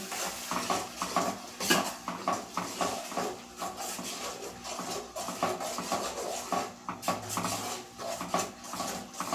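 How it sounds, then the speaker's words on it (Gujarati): Tomato puree being stirred into restaurant-style shahi bhindi masala in a pan, with a continuous busy clatter of the spoon scraping and knocking against the metal and a light sizzle beneath. "આપણે આ ટામેટાની પ્યુરી એડ કરીશું બરાબર મિક્સ કરી લેશું"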